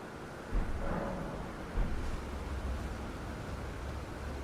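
A lightning spell cast in the video game Elden Ring gives a dense, rumbling thunder-like roar with two sharper bursts, loud and continuous throughout, with no talk.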